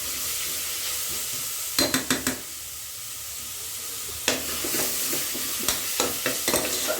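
Chopped mint and coriander frying in a pan give a steady soft sizzle, with sharp clicks and scrapes of stirring in small clusters over it.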